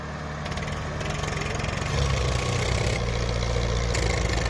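A tractor engine runs loud and close in gear during an outdoor pulling demonstration comparing Swaraj 855 and Sonalika tractors, a steady droning rumble that grows slightly heavier partway through.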